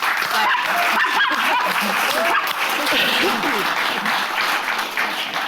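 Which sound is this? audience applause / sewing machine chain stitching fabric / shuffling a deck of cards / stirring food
audience applause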